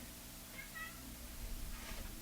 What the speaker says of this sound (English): The cat wants to come in again.